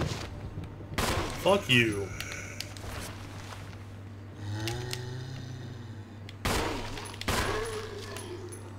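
Gunfire in the video game Resident Evil HD: several sharp, loud shots spaced across the stretch, with a man swearing in between and a low game hum underneath.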